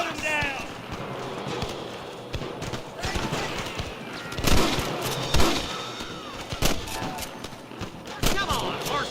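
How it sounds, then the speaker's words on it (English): Gunfire in the video game Red Dead Redemption, sharp shots and bursts scattered through a chaotic fight with galloping horse hooves, while voices shout over the action. "Gun him down!"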